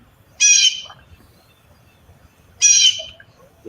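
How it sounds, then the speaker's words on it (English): Two loud, harsh squawking calls from a blue jay spotted at a backyard bird feeder, each burst lasting about a third of a second and spaced roughly two seconds apart, with a faint low background murmur in between. "The blue jay."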